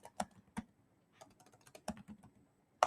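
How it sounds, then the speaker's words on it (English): Someone types a Google search on a computer keyboard, producing quiet, irregular clusters of key clicks with short pauses between bursts, close and alone without speech. "So I go to Google and then I type in free genealogy websites."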